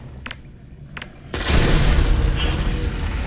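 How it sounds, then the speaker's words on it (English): A grenade explodes in the Half-Life: Alyx video game: a sudden loud boom after a couple of faint ticks, followed by a rumbling, debris-filled tail that lingers for a few seconds. "Waste a grenade."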